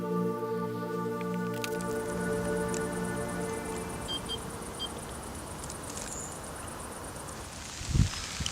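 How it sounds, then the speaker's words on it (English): Heavy rain pours steadily on a lakeside carp fishing spot in Holland, a constant close hiss with faint drips and rustles throughout and one brief louder knock near the end. "Just started chucking it down with rain"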